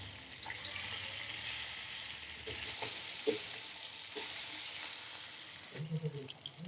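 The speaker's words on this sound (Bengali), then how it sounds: "এখন আমি মাছটাকে উল্টিয়ে দিচ্ছি।" Rohu fish frying in hot oil after being turned in the pan, a steady close hiss of sizzling with a few soft knocks and a brief bubbling burst near the end, no speech.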